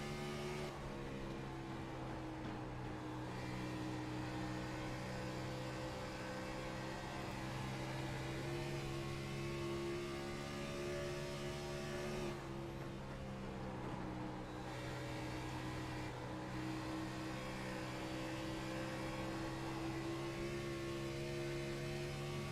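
Onboard a Chevy Camaro race car driven mid-race, the engine holds a loud, steady drone with strong harmonic bands, dipping briefly around shifts or lifts before surging again, continuous and close with no voices.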